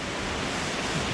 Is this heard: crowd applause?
no